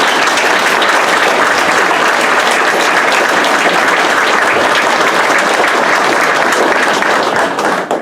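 A banquet audience at an EMS awards dinner breaks into loud, sustained applause, dense clapping filling the room steadily for about eight seconds before easing slightly at the end.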